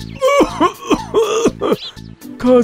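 A sick cartoon character with a fever coughs and clears his throat in a rapid run of harsh, voiced hacks, close and loud.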